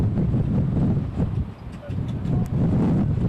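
Wind gusts buffet the microphone at Corbin Field during a high school baseball game, a loud low rumbling roar that dips briefly and then swells again, with faint voices underneath.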